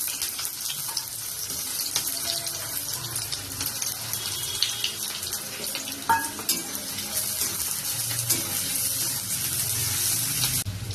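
Chopped onions fry in a little oil in a kadai, giving a steady, close hiss with occasional scraping stir sounds; no one speaks.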